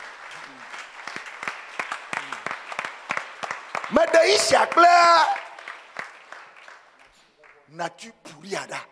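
Congregation at an Easter fasting and prayer service breaking into clapping, scattered hands and rhythmic claps mixed with loud voices calling out over it, rising to a peak midway before thinning out.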